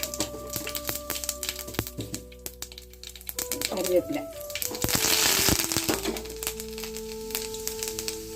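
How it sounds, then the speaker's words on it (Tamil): Mustard seeds crackle and pop in hot oil with scattered sharp snaps and a rising sizzle, while a person talks over it, during tempering for rasam. "நல்லா எண்ணெய் காஞ்சிருச்சு நம்ம கடுகை போட்டுடலாம்"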